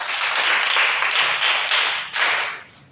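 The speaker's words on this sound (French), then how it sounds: "Acclamez pour vous-même" Lively clapping from a gathered audience at a French-speaking church camp, a bright, close, continuous patter of many hands that swells and then dips briefly before a final burst near the end.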